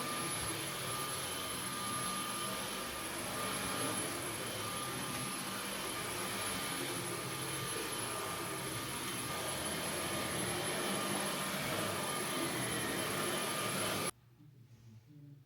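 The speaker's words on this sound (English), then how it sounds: "Steamy vacuuming." A steam vacuum cleaner runs indoors with a continuous loud whooshing motor roar and a thin high whine, holding steady for about fourteen seconds before it cuts off abruptly.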